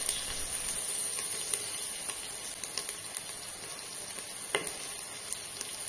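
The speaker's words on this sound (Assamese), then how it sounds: "গোটেইখিনি মই অকণমান সময় ভাজি ল'ম যাতে আদা আৰু নহৰু কেঁচা গোন্ধটো নোহোৱা হয়" Crushed ginger and garlic fry in a pan, a soft steady sizzle with scattered faint clicks and pops of stirring throughout.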